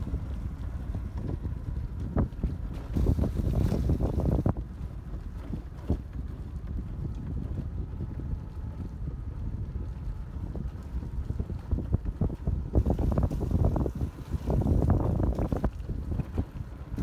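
Outdoor wind buffets the microphone on a roadside near an old Portuguese church in Thanlyin, Yangon, Myanmar, a continuous low rumble with gusty surges and faint clatter underneath.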